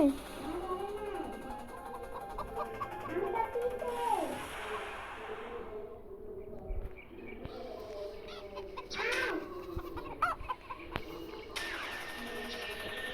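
Chickens cluck and squawk in short bursts nearby, with people talking and movement noises mixed in.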